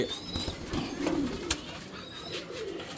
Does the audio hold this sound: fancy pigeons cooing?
yes